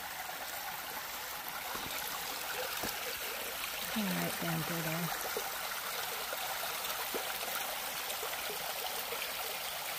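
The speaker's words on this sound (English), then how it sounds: "We have a little water feature. Oh my gosh, and it's clear water." A small stream of clear water trickles steadily along a hiking trail on the Appalachian Trail, a soft continuous babble close by, with a brief spoken remark partway through.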